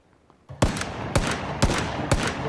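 Sniper rifle fire in PUBG, four loud evenly spaced sharp shots with brief echoing tails, each about half a second apart, close and alone without talk.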